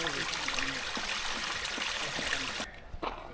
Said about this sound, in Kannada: ಸೊ ಇದು ನ್ಯಾಚುರಲ್ ನೇತ್ರಾವತಿ ನೀರು ಹರಿತಿದೆ.